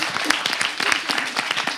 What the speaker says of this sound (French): La façon dont vous avez applaudi, vous allez réapplaudir.